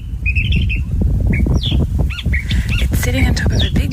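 California Thrasher singing from a bush top at Point Loma near San Diego, a varied run of chirps, whistles and harsh phrases, moderately close, over steady low wind or background rumble.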